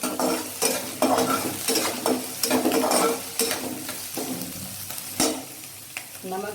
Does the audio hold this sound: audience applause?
no